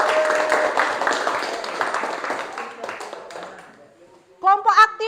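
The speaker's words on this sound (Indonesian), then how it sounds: "Berikan tepuk tangan." Classroom applause from students as a reward for the most active group, a burst of dense clapping over chatter that fades, followed by a teacher's voice speaking.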